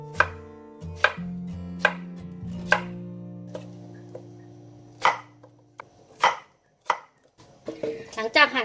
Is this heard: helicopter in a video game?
no